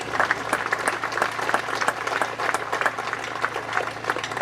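An audience at a youth football league prize giving claps steadily for the behind-the-scenes team, a dense, continuous patter of many hands with slight rises and dips in loudness throughout.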